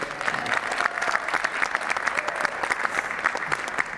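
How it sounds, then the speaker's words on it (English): Audience applause for the moderator at the 2021 Santa Fe mayoral forum, a steady, dense clapping that holds evenly through the whole stretch at moderate level. "let's also get another big round of applause for our amazing moderator"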